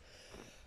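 A person snorts while sneezing, a single brief nasal burst that is faint and close, with no talking over it.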